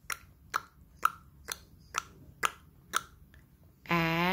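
Hands clap seven times in a steady, evenly spaced rhythm, sharp and close, followed by a brief start of a bright sung or spoken tone at the end.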